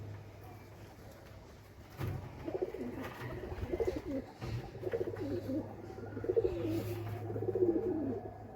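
Domestic desi pigeons, including a hen near hatching eggs, coo close by in repeated throaty rolling phrases over a steady low hum.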